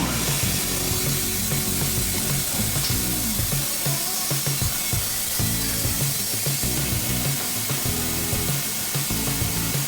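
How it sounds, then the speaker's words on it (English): A Baker saw in a pallet-room mill cuts boards for pallets with a steady, loud mechanical clatter and grinding rumble that runs without a break and no voices. "There, I'm feeding some boards into the baker's taking the 42s right now."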